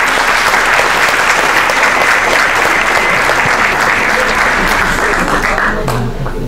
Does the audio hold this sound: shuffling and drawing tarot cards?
no